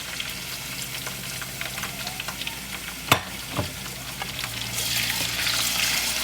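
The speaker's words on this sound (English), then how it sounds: "We're going to cook the prawns in the oil." Prawns frying in hot oil for char koay teow rice noodles, a steady close sizzle with a couple of sharp metallic knocks partway through, the hiss swelling brighter toward the end.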